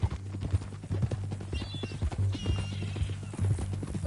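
Horse hooves clop steadily at a walking pace over a low rumbling background in Red Dead Redemption 2, with a faint whinny partway through.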